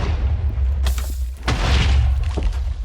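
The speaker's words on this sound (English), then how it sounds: "you'll hear the sound of TNT dispensing and exploding" Minecraft TNT dropping from a dispenser onto obsidian and blowing up wood in a video game: a few dull booms and crackling bursts over a steady low rumble, loud and close, with no talking.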